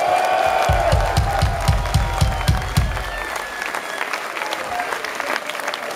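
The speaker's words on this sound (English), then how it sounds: "put your hands together, make some noise for yourself." Large concert crowd at a heavy metal show in Cologne applauding and cheering loudly, dense clapping with whoops and shouts, a rhythmic thumping pulse early on that fades as the roar continues.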